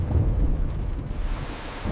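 Heavy rain and storm at sea in the Bay of Biscay among huge waves, a continuous loud low rumbling roar like thunder and driving rain, with no voices.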